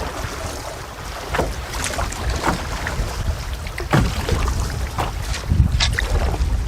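Strong head wind buffets a solo canoe on an Algonquin lake while paddling, a steady rushing roar with microphone wind noise and periodic paddle splashes and water slaps close by, no talking.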